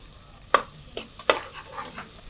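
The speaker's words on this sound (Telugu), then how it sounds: "చిన్నగా చాప్ చేసుకున్న ఉల్లిపాయలు కూడా వేసేసారు" Finely chopped onions go into a frying goat head curry, and a spoon scrapes and knocks against the pan several times over a low sizzle, close by, with no voices.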